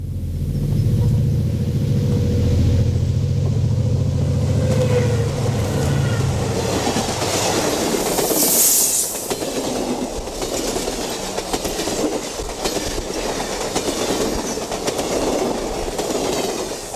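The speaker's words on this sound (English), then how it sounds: "the Hiawatha approaches on the Milwaukee's divided double track, a GN Mountain Series lounge observation car trails" An Amtrak Hiawatha passenger train passes on the Milwaukee Road's divided double track in Wisconsin, its loud rumbling approach giving way to rhythmic clickety-clack of wheels as cars roll by close at hand.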